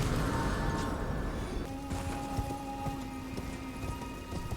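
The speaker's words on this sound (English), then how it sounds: "That was the most unnecessary bit of horse riding in history." Rapid hoof clip-clop of a galloping horse in the game Elden Ring over a steady background hum and music-like tones, continuous and moderately loud throughout.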